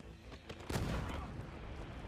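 Explosion sound effect in an animated comedy, a sudden heavy boom followed by a rumbling, fading roar, loud and alone.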